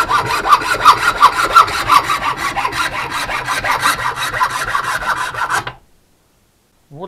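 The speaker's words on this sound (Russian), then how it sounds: "Мы ее сейчас отпиливаем ножовочкой." A hand hacksaw cuts through a Ski-Doo Skandic snowmobile brake pad in rapid, even, rasping back-and-forth strokes for about six seconds, then stops abruptly into silence.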